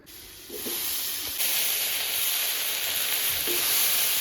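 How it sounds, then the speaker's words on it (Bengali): Seeded banana pieces sizzle steadily and loudly in hot oil already used for frying fish, a constant hiss that swells as they hit the pan, with no talking. "এবার ওই একই তেলে এই বিচিগুলো বিচি কলা যে কেটে রেখেছিলাম আগে থেকে সেটা দিয়ে দেবো"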